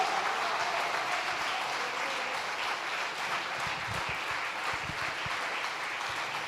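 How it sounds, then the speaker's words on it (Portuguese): A church congregation applauds in a steady, dense wash of clapping that holds at an even level throughout, with a few sharper claps standing out toward the end. "Dê uma salva de palmas para o Espírito Santo."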